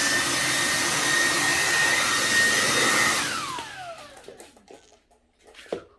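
A vacuum cleaner runs loud and close with a steady whine, then switches off and spins down, leaving quieter knocks and rustles.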